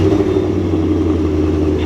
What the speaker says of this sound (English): And you can hear that V8 come to life.